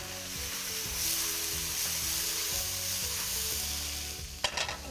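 Garlic sizzles in a stir-fry pan with spring onions and sprouts, a continuous bright hiss running alone over soft background music.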